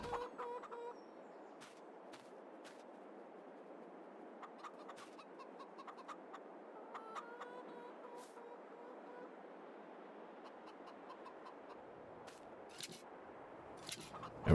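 Chickens cluck in Farming Simulator 22 on the Haut-Beyleron farm, with scattered short clucks and squawks over a steady low ambient bed throughout, no talking.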